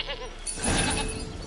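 A goat in The Witcher 3 gives a short, nasal bleat that rises over a faint game background, heard once at close range.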